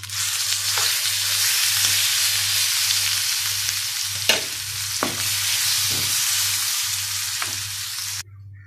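Ivy gourd chutney tempering being stirred in hot oil, a steady close sizzle with occasional scraping stirs over a low hum, running several seconds before cutting off abruptly, no talk.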